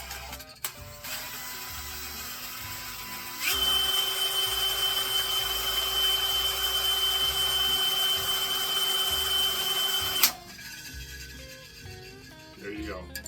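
A power drill spinning a paint mixer whirs at a steady high pitch for several seconds, starting and stopping abruptly, with quieter handling noises before and after.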